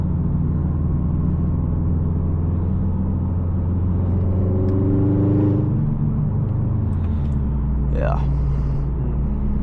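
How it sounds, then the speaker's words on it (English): A petrol car's loud engine drones steadily from inside the cabin while driving, a deep rumbling hum that shifts pitch as the revs rise and fall, with a voice talking over it. "engine noise."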